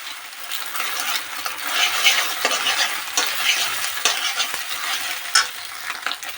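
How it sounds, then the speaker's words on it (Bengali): An egg fries in about twenty-five grams of oil in a pan, a loud bright sizzle and crackle, continuous and close, with spatter bursts and stirring scrapes. "ডিমটা ভাজা এখানে কমপ্লিট হয়ে গেছে"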